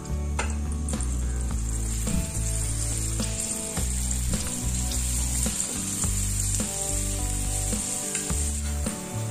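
Folded pappad masala snacks frying in hot oil for an evening snack: a steady, loud sizzle runs throughout, broken by the repeated clink and scrape of a utensil against the pan as the pieces are moved, with no voices.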